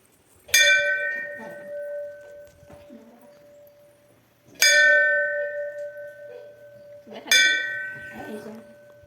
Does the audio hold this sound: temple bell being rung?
yes